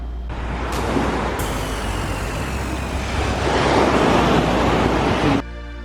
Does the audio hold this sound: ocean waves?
yes